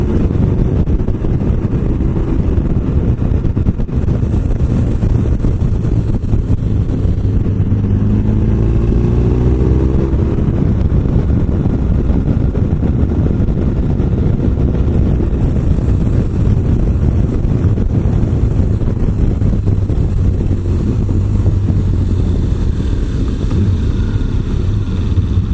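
A car accelerates steadily on a driving lesson, the engine note rising beneath constant wind rush and road noise, with a motorcycle nearby.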